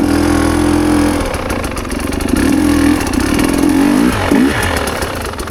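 A small motorbike engine runs loud and close, its droning pitch rising and dipping as it revs.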